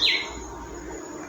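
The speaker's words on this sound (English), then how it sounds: "And as you guys can hear the lovely birds singing." A single bright bird chirp rings out at the start on a farm, followed by faint ambient outdoor noise.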